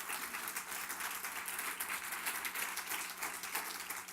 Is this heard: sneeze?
no